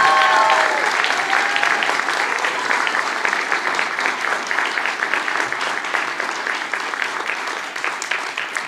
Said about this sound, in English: Let's give one more round of applause to our students graduating with honors.